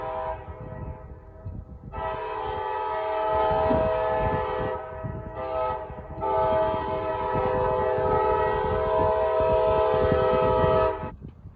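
A train rolls past on railway tracks close by, a loud sustained horn blaring in long blasts over the rumble of the cars, with a brief dip in the middle before the horn resumes and then cuts off.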